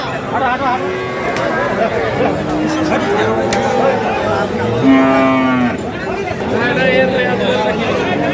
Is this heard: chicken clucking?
no